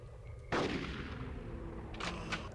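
Gunfire from the video game Conker's Bad Fur Day, a sharp blast followed by a dense, sustained rumble of shooting with a couple of further bursts near the end, loud and continuous throughout.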